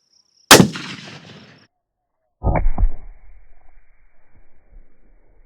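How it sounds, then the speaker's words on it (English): A rifle fires a Hornady SST bullet, one sharp, loud, close blast with a ringing tail, followed about two seconds later by a heavy thump that trails into a fading rumble. "Let's shoot this SST,"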